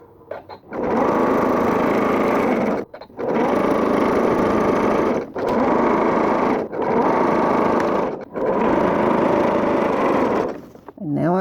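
A domestic sewing machine zigzag-stitching a quilt to its border runs in four long, steady, close bursts separated by brief pauses.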